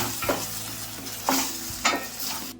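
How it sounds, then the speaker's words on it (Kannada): A spoon stirs cooked tomato chutney in a hot pan, making three distinct scraping strokes about a second apart over a soft continuous sizzle, close and without talking. "ಇವಾಗ ಇದನ್ನು ಸರಿ ಮಿಕ್ಸ್ ಮಾಡ್ಕೊಬಿಡೋಣ"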